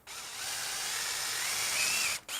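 A power drill whines steadily through a wooden bottle opener, a high continuous bore lasting about two seconds, stopping briefly and then giving a short final burst, close up with no talk.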